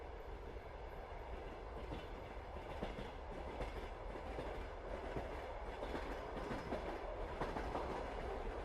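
A night train runs steadily along the rails on a winter journey, a soft, continuous rumble with gentle clickety-clack from the carriage, even and unbroken throughout with no voices.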